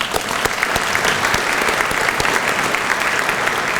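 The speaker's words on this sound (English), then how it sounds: "Let's give them all a round of applause." A conference luncheon audience at a regional chamber of commerce gives sustained, dense applause, steady and fairly loud, with no talking over it.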